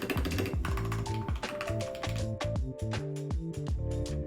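Rapid, steady typing on a new mechanical computer keyboard whose switches were just fitted, dense clacky keystrokes running continuously and close up, with no voices.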